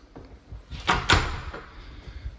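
During a house tour, a door is closed: a soft quick knock and then a firmer thud close by, with quiet room tone around them.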